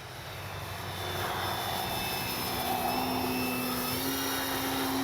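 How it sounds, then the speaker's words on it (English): Flex Aviator 40E electric RC plane cruising overhead, a steady whining motor and propeller drone that swells slightly as it passes, constant and alone with no talk. "flying, just your regular cruising around, touch and go, that sort of flying"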